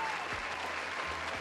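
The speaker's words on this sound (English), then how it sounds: "And you deserve the applause" A brief burst of dense applause, many hands clapping steadily at moderate volume with no pauses.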